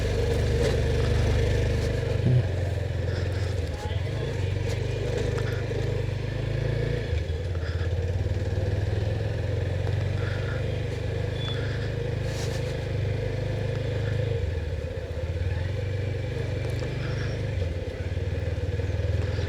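A motorcycle engine idles steadily in a mountain parking area at Sonprayag, a continuous low rumble with faint clatter and passing background noise.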